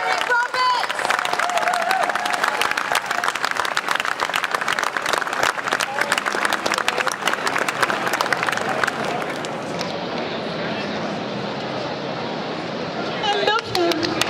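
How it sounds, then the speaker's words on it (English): Applause and cheering from a convention crowd at a comic con, steady and loud throughout with dense clapping, easing slightly toward the end. "Stamp your feet, clap your hands, and give a cheer for the legendary Eric Roberts."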